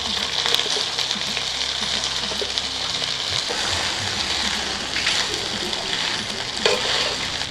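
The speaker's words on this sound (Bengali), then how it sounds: "দেন ওই খুদের ভাতটা দেন, একটু হালকা ভেজে নেব।" Broken rice (khud) is lightly fried in oil with a dense, steady sizzle and occasional stirring scrapes, loud and close throughout, and nobody speaks.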